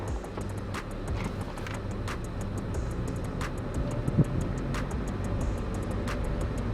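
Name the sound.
manual car pulling away in first gear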